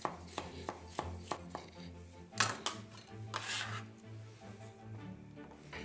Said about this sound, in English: Cut the top off, cut the bottom off. All right, and just slice the rest of them.